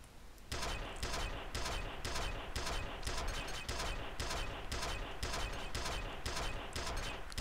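Gunfire rattles nonstop in F.E.A.R., a rapid, steady run of evenly spaced shots that lasts the whole moment. It sits fairly close, at moderate loudness, with no pause between the bursts.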